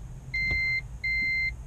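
Two identical electronic beeps from a Toyota Prius reverse parking warning, each about half a second long, evenly spaced over a low idling engine rumble.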